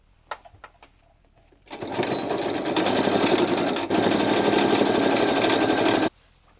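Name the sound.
sewing machine sewing pockets onto pants leg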